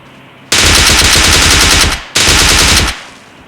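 Automatic gunfire in a battle royale video game: two loud, close bursts of rapid shots, each lasting over a second, separated by a short pause.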